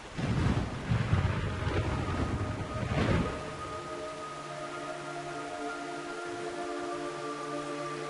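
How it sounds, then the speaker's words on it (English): Rain falls in the jungle of Metal Gear Solid 3, a dense, rushing wash that swells for about three seconds, then eases into a quieter patter beneath a sustained ambient hum. "It's raining blood."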